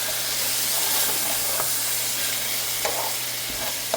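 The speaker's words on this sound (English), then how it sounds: "I'm going to start adding my ginger garlic paste" Ginger garlic paste frying and being stirred into ground beef for a keema aloo curry, a steady close sizzle with scraping stirs of the spoon running throughout, and no talking.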